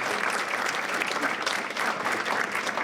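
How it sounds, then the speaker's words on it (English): An indoor audience at a spring business expo claps steadily, giving the board of directors a dense, sustained round of applause with no pause. "give them a nice round of applause"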